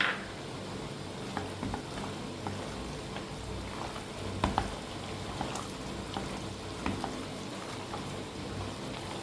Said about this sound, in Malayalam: എന്നിട്ട് നല്ലവണ്ണം ഒന്നും കൂടി മിക്സ് ചെയ്യാം